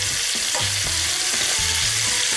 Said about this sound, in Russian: чтобы курица все-таки равномерно обжаривалась